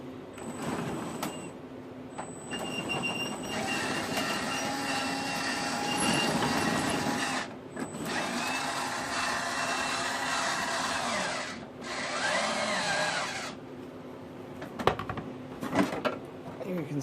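Motorized turret of a 1/6 scale Dragon Sherman tank model rotating, a whining electric drive that starts and stops in several short runs over steady background noise.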